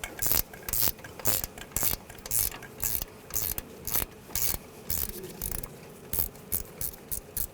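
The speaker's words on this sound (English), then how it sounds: "I'll just switch to a ratchet wrench to make it easier" A ratchet wrench with a 10mm socket loosening a bolt on a 2009-2017 Volkswagen Tiguan during strut mount work, close rhythmic clicking ratchet strokes repeated steadily in short bursts.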